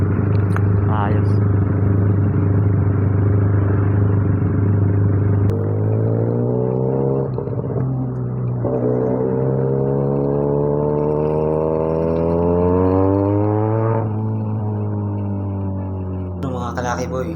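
A Benelli 302S motorcycle rides on a test drive, its engine droning steadily close by with rising and falling revs through gear changes, a loud continuous hum that persists throughout.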